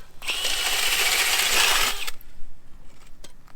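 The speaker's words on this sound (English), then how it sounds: "But I'll drill one real quick." A loud, steady grinding whir of an ice auger boring through about 2 inches of lake ice for about two seconds, then it stops, leaving faint scrapes and knocks.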